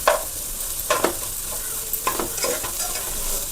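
A spatula works garlic egg fried rice around a hot pan, giving several quick irregular scraping strokes over a low steady sizzle.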